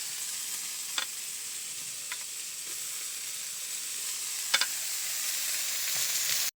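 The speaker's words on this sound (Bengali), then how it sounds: "চিংড়ি মাছগুলো হালকা একটু ভেজে নিয়েছি এবার আমি এখানে দিয়ে দিচ্ছি লাউয়ের খোসা" Gourd peel tipped into a pan of lightly fried prawns, a steady close sizzle and hiss with a few soft clicks and stirring taps, with no talking.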